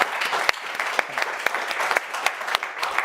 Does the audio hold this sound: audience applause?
yes